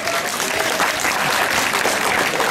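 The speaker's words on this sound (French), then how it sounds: "je vous demande de l'applaudir très très fort" A crowd applauds at a live show, with loud, continuous clapping that fills the whole moment and has no pauses and no talking.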